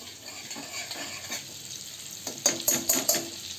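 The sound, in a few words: butter melting and sizzling in pan for paneer butter masala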